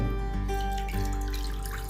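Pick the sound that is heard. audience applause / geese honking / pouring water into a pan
pouring water into a pan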